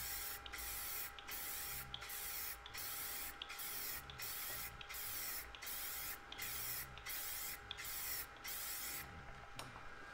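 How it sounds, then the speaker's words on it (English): Regular bursts of aerosol spray paint hissing in steady, evenly spaced passes onto a canvas, about a dozen in a row, close and loud with no talking. "So easily just spray it on."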